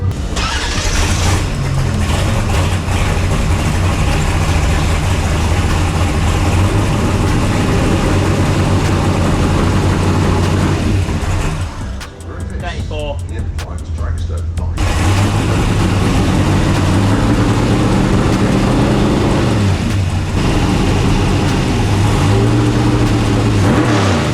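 A car engine runs loudly and steadily at close range during an ignition timing check, holding a constant drone with a brief dip in the middle and no speech over it.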